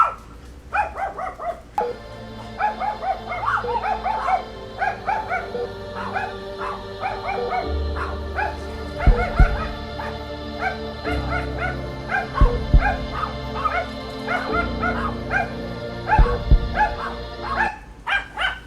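Several dogs bark and yip repeatedly in a backyard, moderately close, with whimpers between bursts, over a steady hum of an air conditioner and a low drone of planes passing overhead.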